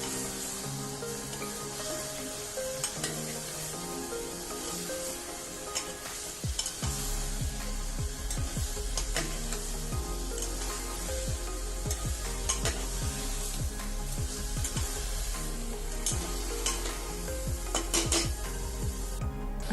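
Mutton curry sizzles in a pressure cooker pan while it is stirred. A constant frying hiss runs under repeated scraping clicks of the spoon against metal, close and busy throughout.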